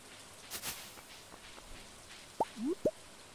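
Rain in Stardew Valley comes through as sparse, quiet drips and plops, a few sharp wet droplet sounds clustered near the end over a soft, faint background wash.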